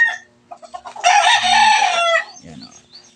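A fighting cock crows once in a long, loud, close call lasting about a second, with a few short clucks and soft scratching sounds just before and after.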